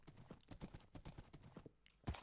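Horse hooves clip-clop in quick, even rhythm in a multiplayer Minecraft-style survival game, moderately quiet, with a brief louder thump near the end and no speech.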